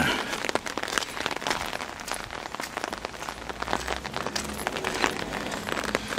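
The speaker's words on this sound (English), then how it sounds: "Now I'm walking the last couple of 100 yards back to the manor in the rain." Rain patters steadily on surfaces around a walker heading back to a manor near Yarnton, Oxford, a dense close crackle of drops with faint crunching footsteps and no talking.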